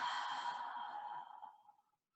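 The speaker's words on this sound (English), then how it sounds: "Taking a deep breath here." A slow, deep exhale during a calm yoga session, a soft breathy rush that fades gradually over about two seconds, close and quiet with no talking.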